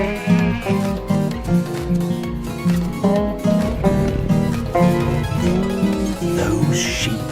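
Cartoon sheep bleating repeatedly in a lively chorus of short, wavering calls over background music.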